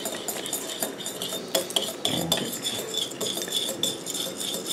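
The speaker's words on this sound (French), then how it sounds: "Et mélanger le café instantané avec le beurre." A metal spoon clinks and scrapes against a bowl while mixing instant coffee into butter for brownies, in a run of sharp, close taps and strokes with no talk.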